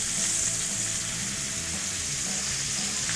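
Butter and half a shallot sizzle steadily in a pan already coated with canola oil, a constant close frying hiss with no talk over it.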